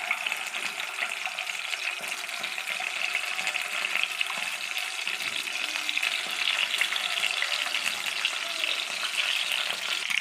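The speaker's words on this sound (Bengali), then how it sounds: "এবার ডিমগুলোকে আমি ভেজে নেব" Shelled boiled eggs frying in hot oil in a pan give a steady, close crackling sizzle that continues without a break and with no talking.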